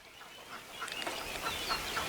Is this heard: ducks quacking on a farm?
yes